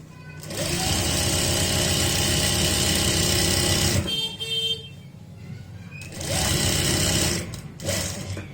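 A sewing machine stitches a belt onto a saree in long, steady whirring runs, stopping briefly in between, then a shorter burst and a final quick spurt of stitching.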